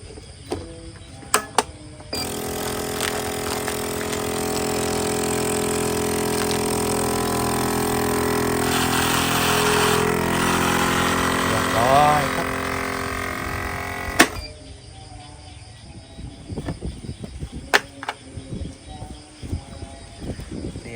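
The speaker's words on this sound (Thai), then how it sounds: "เสร็จแล้วมาใส่เครื่องซีนครับ" A vacuum sealing machine runs on bags of mushrooms packed half a kilo each, a loud, steady motor hum lasting about twelve seconds before cutting off abruptly. Faint clicks and handling noises come before and after it.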